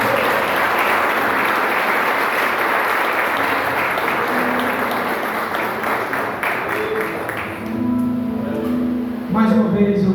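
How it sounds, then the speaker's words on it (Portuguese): Loud sustained applause from a congregation during a men's church service, a dense wash of clapping that tapers off near the end as voices and a musical tone come through. "Dê uma salva de palmas bem forte para você."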